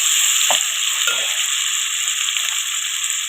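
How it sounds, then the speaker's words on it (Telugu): Tomatoes fry in a pan for prawn biryani, giving a steady, loud sizzle across the whole stretch, with two brief stirring scrapes near the start. "టమాటాలు వేసుకుంటున్నారండి. ఈ టమాటాలు కూడా వేగాలి."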